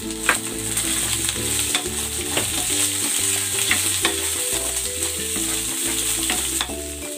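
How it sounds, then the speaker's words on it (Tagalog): Shrimp sautéing with garlic in cooking oil gives a steady, loud sizzle with repeated stirring scrapes throughout, while background music plays underneath. "Gisahin ko ng bahagya itong hipon."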